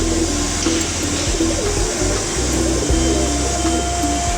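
Soft pigeon cooing mixed with a steady mechanical hum, low and continuous, with no voices.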